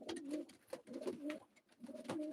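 Pigeons coo in repeated soft, throaty bursts, close by, with short pauses between the rolling calls.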